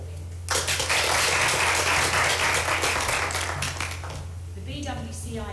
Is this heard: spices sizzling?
no